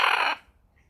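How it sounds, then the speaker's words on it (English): Background birds, chicken-like, let out one brief loud squawk that cuts off abruptly and leaves near silence with a faint distant chirp. "We brought the birds"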